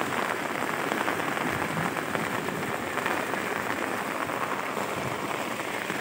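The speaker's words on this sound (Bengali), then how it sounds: "এই পরিমাণে বৃষ্টি হয়েছে" Heavy rain pours down steadily and loudly in a farming area, a dense, continuous hiss of drops striking the ground and surfaces with no pauses and no voices.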